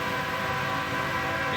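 A BNSF manifest freight train led by GAYVO locomotives rolls past, giving a steady rumble with a sustained tonal whine. The sound stays at an even level and no voices are heard.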